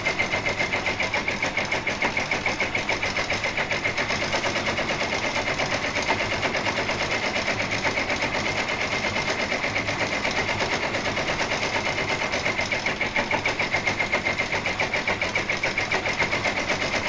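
A multi-needle embroidery machine stitching, a steady, fast mechanical hum and rapid needle chatter that runs unbroken and fairly loud, with no talking.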